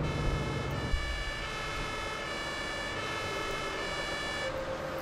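Alarm sounding at a shopping centre in Emergency Call 112, a steady electronic tone with stacked harmonics that holds unbroken and fairly quiet over an engine-like rumble.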